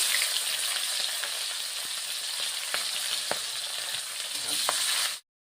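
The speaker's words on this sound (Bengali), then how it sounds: "তেল গরম হয়ে গেছে, অল্প জিরে দিয়ে দিলাম, পেঁয়াজ কুচি অল্প, কাঁচা লঙ্কা" Cumin seeds, chopped onion and green chilli frying in hot oil for a Bengali katla fish curry, a steady close sizzle with a few sharp pops and crackles, no voices, ending abruptly.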